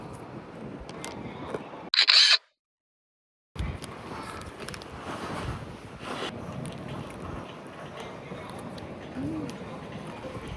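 A camera shutter fires once in a short bright burst, followed by a brief dropout, amid steady outdoor background noise and light wind on a food trip in Daejeon.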